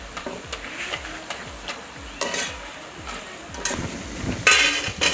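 Ladoo dough fries in hot oil in a pot, giving a steady crackling sizzle with bubbling bursts and occasional louder spits, close and moderately loud, with no talking.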